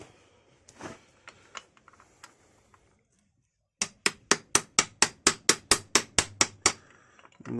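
A hammer strikes a socket to drive out part of the control pressure regulator on a Mercedes W123 230E with the M102 engine. About a dozen sharp, even metallic blows come in a steady rhythm after scattered lighter taps and a brief pause.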